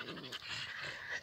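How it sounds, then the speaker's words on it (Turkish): A dog pants rapidly and steadily at close range in a dog park, with quick, breathy rhythmic huffs running through the whole short stretch and no voices over it. "Sırtını kaşı diye bekliyor köpek."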